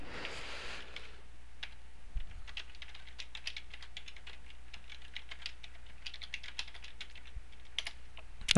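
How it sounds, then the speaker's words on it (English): Fingers type away on a computer keyboard at a desk, a quiet, close run of rapid irregular key clicks with brief pauses and no speech. "and I'm going to type away."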